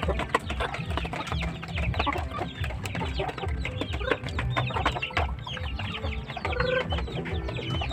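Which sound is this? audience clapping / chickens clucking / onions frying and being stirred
chickens clucking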